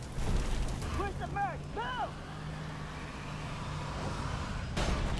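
A T92 light tank's engine drones low and steady under engine boost in the Armored Warfare game, with brief whistling, voice-like tones above the rumble.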